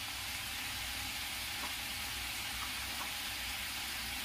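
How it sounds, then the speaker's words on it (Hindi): Dry ground spices hit hot oil in a thin egg curry gravy on a high gas flame, giving a steady, fairly quiet broadband sizzle and hiss that holds evenly throughout with no talking. "अब गैस को मैं तेज कर रही हूँ और कुछ सूखे मसाले मिलाऊंगी"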